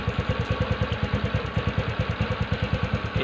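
TVS Ntorq BS6 scooter engine idling close by, a steady loud chugging pulse with even firing beats and light mechanical clatter, alone with no talk.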